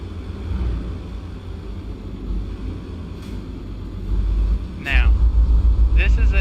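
A steady low engine rumble fills a vehicle cab, droning and reverberant, growing slightly louder near the end, with a brief muffled voice-like sound.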